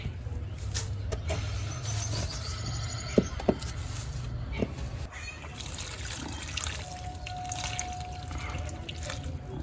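Water poured and trickling onto a covered dragon fruit plant, a steady low splashing wash with scattered drips, fairly close, going on throughout with no talk.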